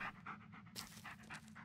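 A dog pants rhythmically in a video game, quick soft breaths repeating steadily at close range with no talking.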